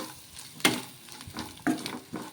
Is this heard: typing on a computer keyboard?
no